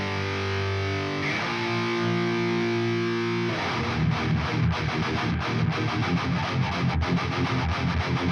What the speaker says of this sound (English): So for the hook, let's start with the distorted guitar.